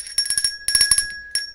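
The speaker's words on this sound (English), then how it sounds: "bell notification" Notification bell sound effect of the subscribe-button kind: a bright, steady high ringing tone with several quick ticking strikes in two bursts, then a brief final chime, clean and close with no speech.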